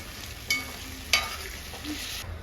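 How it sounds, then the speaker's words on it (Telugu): Chicken curry fries gently in a pan with Teja chilli powder being stirred in, a soft steady sizzle broken by two sharp scraping clinks of a spoon against the pan. "కారం ఇది తేజ కారం బాగా మిక్స్ చేసుకోవాలి"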